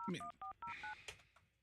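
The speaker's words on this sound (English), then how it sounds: "All right, calling Michelle's cell phone." Telephone keypad tones dial a cell phone number during a live morning radio show: about six quick, evenly spaced DTMF beeps, then a fading hiss on the line.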